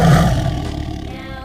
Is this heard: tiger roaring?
yes